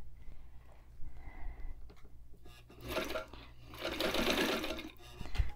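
A White 173 sewing machine stitches in uneven bursts, a close mechanical whirring and clatter that builds louder toward the end over a low steady hum.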